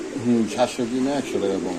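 Racing pigeons coo in a few short, throaty phrases close by, mixed with people talking.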